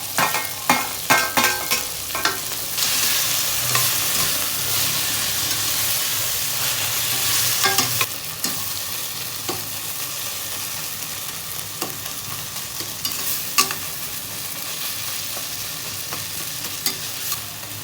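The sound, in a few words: ginger garlic paste and coriander sautéing, stirred in a pan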